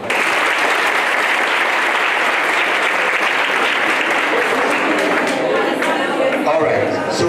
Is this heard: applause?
yes